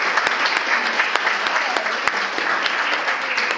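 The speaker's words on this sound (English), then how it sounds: "a round of applause" Dense audience applause from an in-person crowd at a lecture event, steady brisk clapping with sharp individual claps standing out, continuous and fairly close.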